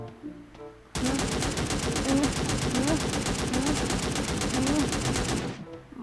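Sustained rapid gunfire from the cartoon shooter game Sausage Man, loud and dense for about four and a half seconds, bursts of automatic fire layered over one another with faint game sounds underneath.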